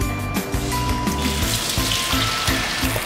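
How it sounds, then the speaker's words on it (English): Shrimp sizzling in coconut oil in a skillet, a steady close hiss and crackle with rhythmic low thumping beneath, continuous throughout with no voices. "Next, you're going to want to throw in the shrimp."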